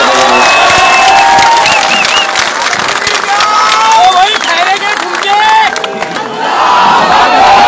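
A large crowd at a political rally roars with loud, sustained cheering, shouts and clapping that carry on without a break.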